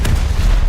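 A British frigate's secondary guns fire in a naval video game: a single short, loud boom with a low rumbling tail, close and with no voices.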